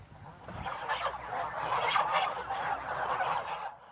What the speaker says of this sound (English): At a goose farm